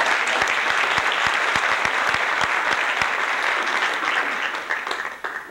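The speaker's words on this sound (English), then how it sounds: "Give Ron a big round of applause." A crowd applauds at a magic show, loud continuous clapping with distinct rhythmic hand claps punching through, holding strong before fading away in the last second.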